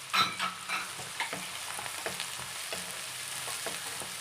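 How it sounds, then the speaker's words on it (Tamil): Green chilies and chopped onions sauté in hot oil in a pan for a vegetable sagu, a steady close sizzle and crackle with a few stirring scrapes near the start. "பச்சை மிளகாவும் ஆனியனும் நல்லா வதங்கிட்டோம் எண்ணெயில்."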